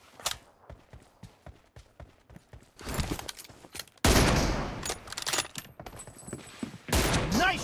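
Rapid bursts of gunfire in the mobile battle royale game BGMI, with a bolt-action M24 sniper rifle among the weapons, starting as evenly spaced shots and then growing into dense, loud volleys with a few quieter cracks between them.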